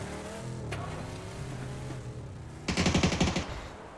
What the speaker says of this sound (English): Herb's taking some shots over at Arson as he leaves.